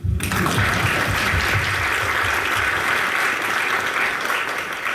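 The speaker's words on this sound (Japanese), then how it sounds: "拍手しましょう" A lecture audience breaks into applause, which starts abruptly and holds as a dense, even wash of many hands clapping close by for several seconds.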